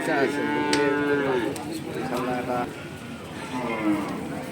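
Several loud cattle moos rise and fall close by at a cattle market, overlapping one another with a busy outdoor murmur of voices underneath.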